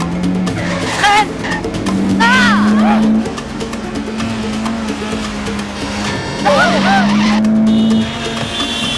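A car brakes hard with tires squealing and skidding in repeated loud bursts, its engine droning underneath and voices shouting over it, from a 1997 French film.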